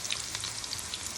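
Buttermilk-battered buffalo cauliflower frying in hot oil, a steady close sizzle with crackling pops and spits spread evenly through the short stretch, no voices.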